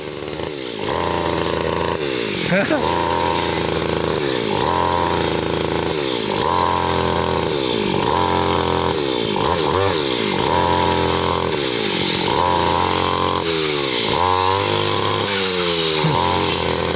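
A motorized grass cutter runs continuously and loudly close by while cutting grass around a house, its engine whining and rising in pitch as it bites into the grass.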